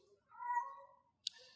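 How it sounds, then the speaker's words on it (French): A cat meows as it passes by, a drawn-out, fairly faint call with a rising then falling tone, followed by a brief sharper chirp, with nobody talking. "Ne vous inquiétez pas, c'est un chat qui passe"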